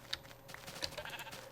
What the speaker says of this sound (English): Sheep look like they're having a blast inside this fenced-in area here.